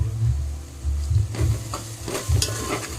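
Dal khichdi tempering with red chili powder and Maggi masala stirred in a hot pan, loud sizzling and hissing with several close scraping strokes of a spoon.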